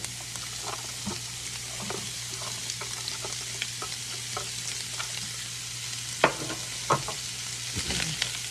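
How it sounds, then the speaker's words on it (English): Seasoned Italian sausage browns in a skillet, a steady close sizzle with light scrapes and stirring taps, a couple of louder clacks near the end, and a low hum underneath; no one speaks. "I'm just going to go ahead and let this cook and get browned up"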